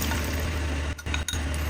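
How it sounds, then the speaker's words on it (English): Tomato-egg sauce pouring into a pan of noodles, a steady close liquid pour with faint glassy clinks and two brief breaks in the flow. "Pour in the sauce."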